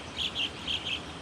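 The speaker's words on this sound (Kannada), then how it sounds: "ನಿಸರ್ಗದ ಜೀವ ಸರಪಳಿಗಳೊಂದಾದಂತಹ ಪಕ್ಷಿಗಳ ಧ್ವನಿಯನ್ನು ಆಲಿಸ್ತಾ ಹೋಗೋಣ." Birds sing outdoors with four short, bright chirps in two pairs, fairly faint over a soft, steady background hush.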